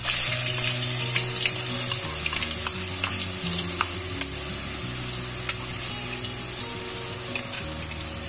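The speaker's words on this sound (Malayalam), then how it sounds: "കടുക് പൊട്ടിയതിനു ശേഷം നമുക്ക് ഇഞ്ചിയും വെളുത്തുള്ളിയും ചതച്ച് വെച്ചിരിക്കുന്നത് നമുക്ക് അങ്ങോട്ട് ഇട്ട് കൊടുക്കാം." Crushed ginger and garlic hit hot oil with popped mustard seeds for a Kerala-style duck curry, giving a steady, close, continuous sizzle with light clinks of stirring and no talk.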